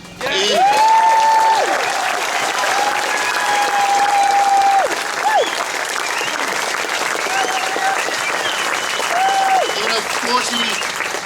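A crowd at an outdoor wetlands rally applauds loudly and steadily for several seconds, with scattered cheers and whistles rising above the clapping before it gradually thins out.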